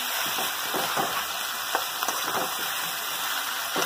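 Potatoes frying in oil with ginger garlic paste, a steady close hiss and crackle with a few faint stirring scrapes.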